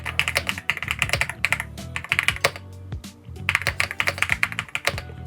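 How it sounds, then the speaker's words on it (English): Steady, rapid typing on a Rapoo V700DIY-98 mechanical keyboard, dense clacking keystrokes in bursts with a brief pause midway, close and clear with no talking. "This beautiful creamy feeling of these keys, it feels absolutely amazing."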